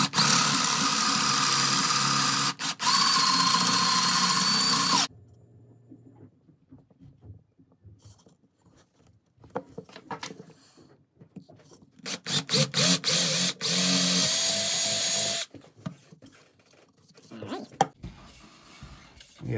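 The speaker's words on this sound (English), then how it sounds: "now it's just a matter of putting in holes for the bird to get in" An electric drill bores inch-and-an-eighth wren entry holes into small wooden acorn-shaped birdhouses. Two loud, sustained whining bursts are heard, with quieter handling and clatter in between.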